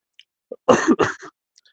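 A person gives a short burst of two or three dry coughs, close and fairly loud, against near silence.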